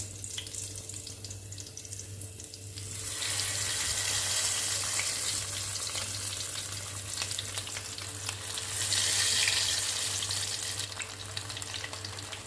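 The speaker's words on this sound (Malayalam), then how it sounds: "ഇതിന് നമ്മൾ ലോ ഫ്ലെയിമിലിട്ട് നന്നായിട്ട് വറുത്തെടുക്കണം." Fish laid on curry leaves sizzles in a pan over low flame in a Kerala-style fish fry, giving a steady, close crackling hiss that swells louder for several seconds, eases, then rises again, with a low hum beneath and no speech.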